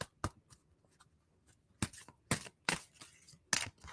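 Australian flower oracle cards being shuffled by hand, giving a series of sharp papery riffling bursts separated by short pauses, close and fairly quiet with no talking.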